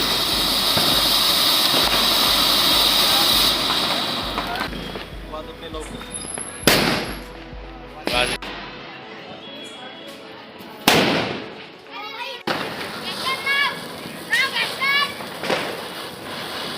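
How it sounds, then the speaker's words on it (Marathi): Diwali firecrackers bursting outside: a hissing rocket-like whoosh, then several sharp, loud bangs spaced apart, with crackling and scattered pops continuing in the background. "फटाके वाजल्याशिवाय दिवाळी सेलिब्रेशन होत नाही."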